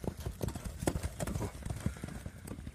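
Rapid hoof clip-clop of a galloping Kyrgyz kara bayir horse, irregular thudding beats at moderate distance with faint crowd murmur beneath.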